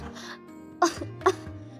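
A person coughs twice in quick succession, short sharp bursts close to the listener, after a brief breathy sound and over a faint low hum.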